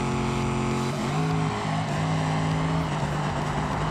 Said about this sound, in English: We rev out really fast.